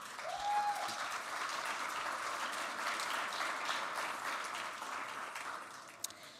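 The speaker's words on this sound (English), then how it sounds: "Please greet with a great applause." An audience at a food festival breaks into steady applause for guest chefs, a sustained crowd of many hands clapping at moderate distance, fairly even throughout.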